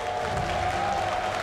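Crowd cheering and applause for Snute, the Team Liquid Zerg player, in an arena at the IEM Katowice 2016 StarCraft 2 semifinal, a steady dense roar that holds through the whole moment.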